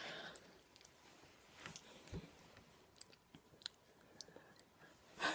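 Someone crunching dry cat kibble in their mouth: quiet, irregular crisp bites and chewing clicks scattered over several seconds, close to the microphone, with a louder crunch at the end.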